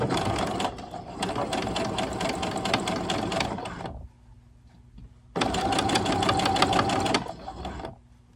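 A sewing machine stitching jersey knit fabric for 18-inch doll clothes, running in two close, steady bursts of rapid rhythmic clatter separated by a short quiet pause.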